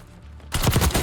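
Enemy gunfire in the video game Call of Duty Warzone: a quiet lull, then a burst of loud close shots in rapid succession for the last half second.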